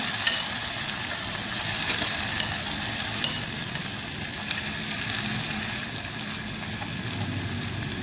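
Snake gourd bhaji frying with tomato mixed in, with curry leaves in the pan, a dense continuous sizzle under light stirring, close and steady with no talk.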